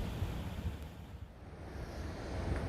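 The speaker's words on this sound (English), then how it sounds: "This is the Niagara River now flowing down towards Queenston and then on to Niagara Lake and into Lake Ontario." The Niagara River flowing down toward Queenston and Lake Ontario: a steady, broad rush of moving water with wind buffeting the microphone, heard alone without talk.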